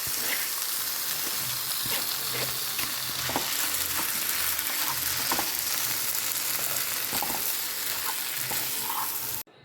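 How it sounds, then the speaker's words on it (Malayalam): Tapioca gets mixed in a frying pan with chilli flakes, a dense continuous sizzle broken by repeated spatula scrapes and taps, close and loud, without speech. "ഇനി നമ്മളെ മെയിൻ കപ്പ ഇതിലോട്ട് ഇട്ട് നന്നായിട്ട് മിക്സ് ചെയ്തെടുക്കാം"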